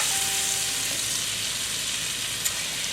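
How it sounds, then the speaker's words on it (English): Butter sizzles in a hot skillet over medium-high heat, a steady broadband hiss that stays close and even throughout, with one small pop near the end. "So I just add a little butter, medium-high heat."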